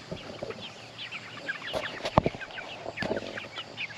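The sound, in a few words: free range chickens clucking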